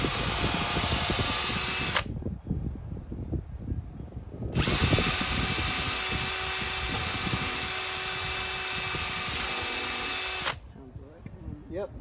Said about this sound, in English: Move your hand before you drill a hole through it.